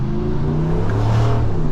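A 2022 Ram 1500 Sport GT pickup's engine rumbles and rises in a close, steady rev heard from inside the cab.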